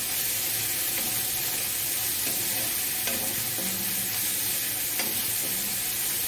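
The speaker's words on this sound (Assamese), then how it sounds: "কলফুলখিনি অকণমান ভাজি ল'ম অলপ দেৰি।" Banana flowers frying in oil in a pan give a dense, continuous loud sizzle with faint stirring scrapes throughout, close and steady without speech.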